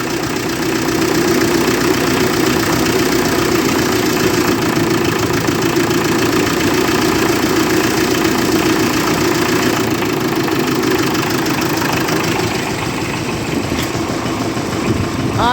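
A 1958 Oliver 550 diesel tractor engine idles steadily with a loud, even low chugging throb that holds throughout, close to the microphone.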